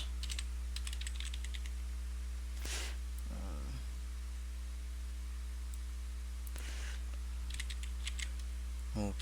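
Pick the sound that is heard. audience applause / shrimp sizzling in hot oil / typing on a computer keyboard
typing on a computer keyboard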